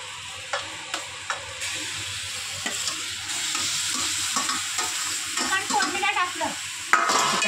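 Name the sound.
chicken frying in tempering for Konkani chicken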